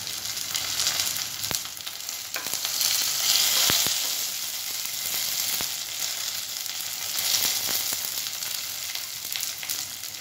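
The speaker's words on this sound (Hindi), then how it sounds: "तेल गर्म होने के बाद मैं इसमें डालूंगी 1/2 चम्मच राई और 6-7 कड़ी पत्ता" Mustard seeds and curry leaves crackle in hot oil, a steady loud sizzle with sharp popping ticks running throughout, close and without talk.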